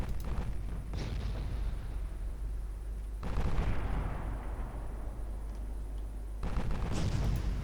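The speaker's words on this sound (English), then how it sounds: "my cruiser is already firing" Cruiser guns firing in the naval game Ultimate Admiral Dreadnoughts, with three heavy booming salvos spaced a few seconds apart, each followed by a rumbling tail over continuous battle noise.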